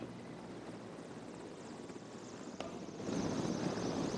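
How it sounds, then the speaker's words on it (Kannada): An Mi-17 helicopter passes over a Republic Day parade, its rotor and engine a distant, steady broadband drone that grows somewhat louder toward the end, with no talk. "ದೂರದಿಂದ ನನಗೆ ನೋಡಿದ್ರೆ ಇದು Mi-17 ಹೆಲಿಕಾಪ್ಟರ್ ತರ ಕಾಣಿಸುತ್ತೆ"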